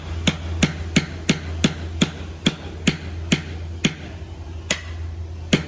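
A hammer drives a nail into wood with a dozen or so sharp, evenly spaced blows, slowing slightly toward the end, close and crisp over a low steady hum.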